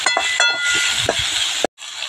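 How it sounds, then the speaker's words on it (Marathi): Onion frying in hot oil in a pan for a bitter gourd dish, a steady bright sizzle with a few clinks of stirring, cutting out briefly before resuming. "तेल गरम झालेलं आहे, तेलामध्ये कांदा व्यवस्थित भाजून घ्यायचा आहे."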